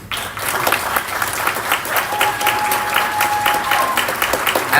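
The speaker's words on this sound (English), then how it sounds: "A round of applause to him." An audience at a conference in Nairobi applauds, with dense, sustained clapping from a large crowd that holds steady for several seconds.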